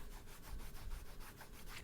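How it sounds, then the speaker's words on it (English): Rough, dry suede on a Nike Air Jordan 1 Mid 'Brushstroke' sneaker rubbed close up, giving a steady scratchy brushing texture with soft rhythmic swells, fairly quiet and without talk. "And that suede, can you hear it?"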